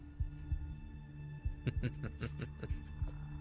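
Suspense background music with a slow heartbeat-like throb, deep low thumps pulsing steadily under a sustained hum, playing behind a post-apocalyptic fantasy tabletop roleplaying session.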